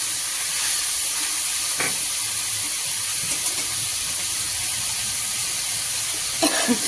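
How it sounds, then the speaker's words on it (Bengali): Onion and winter vegetables fry lightly in a pan for chowmein, a continuous close hissing sizzle with a few faint clinks and a brief stirring scrape near the end, no voices. "এর মধ্যে হালকাই ভেজে দেবো পেঁয়াজটা"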